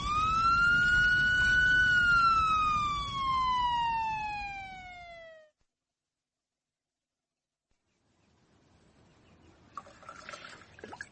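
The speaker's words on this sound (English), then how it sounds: "The ambulance is coming." An ambulance siren in a radio drama sweeps loud and close in a single long wail that slowly falls in pitch, cuts off, and is followed by silence and then faint scattered sounds.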